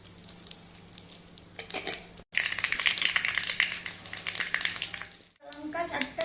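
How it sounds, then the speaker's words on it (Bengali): Mustard seeds temper in hot oil for Bengali eggplant posto, a close, crackling sizzle that bursts louder after a brief cut, with a voice talking softly at moments. "সরষেটা ফোড়ন দেবো।"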